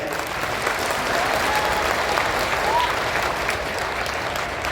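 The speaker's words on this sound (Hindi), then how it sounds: "जोरदार ताली होनी चाहिए भाई" Loud, steady applause from an audience at a Hindi-language public talk honoring Emperor Ashoka, filling the whole stretch as a continuous dense patter with no voices on top.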